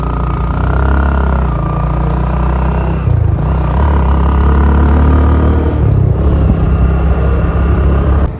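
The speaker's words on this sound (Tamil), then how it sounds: "ரெண்டு பைக்கில் 3 பேர் போயிட்டுருக்காங்கன்னு நினைக்கிறேன் ஃப்ரெண்ட்ஸ்." Motorbikes riding along a road in Nepal, a steady loud engine drone with traffic rumble throughout, rising and easing slightly as vehicles pass.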